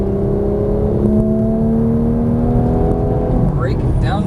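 A Porsche 991 GT3 accelerates on a race track, its engine droning loud and steady from inside the car, with a brief rising whine near the end; a voice talks over the engine.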